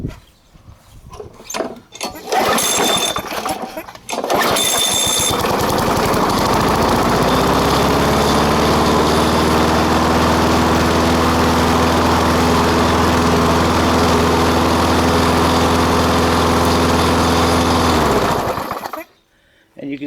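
A lawn mower engine is started with a few sharp tugs on its pull cord, then catches and runs at a loud, steady drone close by until it suddenly cuts off near the end.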